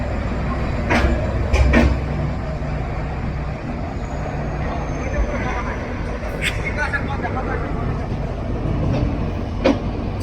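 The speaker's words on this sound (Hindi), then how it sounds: "और आज अपनी ब्रह्मपुत्र मेल की जर्नी की शुरुआत होगी WDP-4D डीजल लोकोमोटिव से, जो कि है सिलीगुड़ी का।" A WDP-4D diesel locomotive hauling the Brahmaputra Mail as it departs Kamakhya Junction, giving a steady rumbling roll with faint horn and squeal accents, heard under background voices and bustle.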